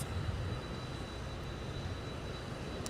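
An American Airlines jet departs LAX as a steady, distant engine roar, a broad low rumble held at an even, faint level throughout without voices.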